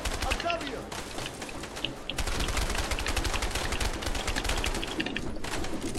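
Rapid automatic gunfire from the co-op prison-escape video game A Way Out, dense bursts of shots rattling continuously throughout at close range, with brief faint voices beneath.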